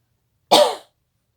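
A single short hay fever cough, close and fairly loud, a sharp burst fading quickly into silence.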